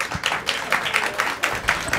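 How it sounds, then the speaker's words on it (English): A small group claps briefly at the close of a downtown-focused podcast segment, a short patter of scattered hand claps heard nearby with no talking over it. "Give them a round of applause, guys."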